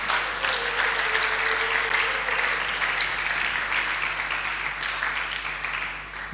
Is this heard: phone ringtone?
no